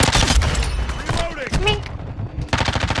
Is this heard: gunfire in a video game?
yes